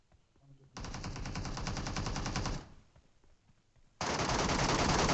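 Bursts of rapid automatic gunfire from the mobile battle-royale game PUBG Mobile, in a Georgopol gunfight: a long loud volley, a short pause, then another sustained burst.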